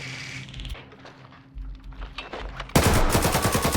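Gunfire in the Hellmets video game, a burst of rapid game shots that turns into loud, fast repeated fire near the end, over a busy background of game sounds.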